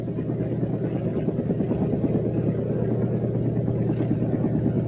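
A helicopter flies during the 1963 big freeze in Monmouthshire, a continuous loud low rotor chop and engine rumble holding steady throughout.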